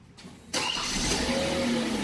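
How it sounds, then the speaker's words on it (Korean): A Hyundai Genesis BH sedan engine cranks briefly and catches about half a second in, then settles into a steady, fairly loud idle hum heard close by. "시동 걸어보세요."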